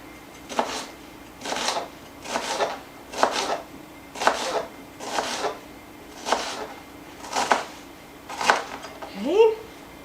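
Two onions being chopped on a cutting board for a crock pot English roast, about nine steady knife strokes in an even rhythm, close and clear.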